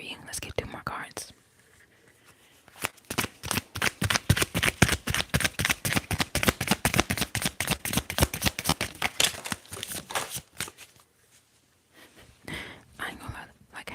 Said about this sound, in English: Let's get 2 more cards.